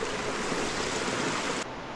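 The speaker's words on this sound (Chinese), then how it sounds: "这是一路过来遇到的唯一一面钟乳石瀑布。" Steady rushing and splashing of water from a stalactite waterfall inside a cave, a continuous broadband roar heard alone at close range that dips slightly near the end.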